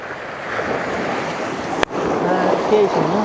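Waves washing in along the Lake Superior shore at Lutsen, Minnesota, a continuous rushing wash mixed with wind buffeting on the microphone, broken by one sharp click, with faint voices in the background.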